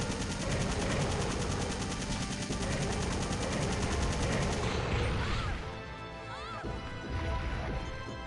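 Sustained, dense gunfire from Resident Evil 3 rattles continuously at close range for several seconds, then thins into scattered impacts and metallic clatter as the volley dies down.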